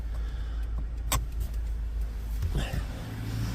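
A 200 LX car raising on its suspension, a low mechanical hum with a couple of brief clunks and clicks, heard close by in a quiet setting.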